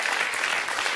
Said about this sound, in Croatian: zatim jedan veliki aplauz za njega